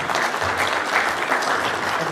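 A summit audience breaks into a full, sustained round of applause, thick even clapping from a large crowd heard fairly loud, with some voices murmuring underneath.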